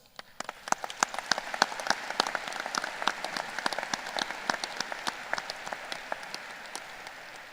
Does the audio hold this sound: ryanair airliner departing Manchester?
no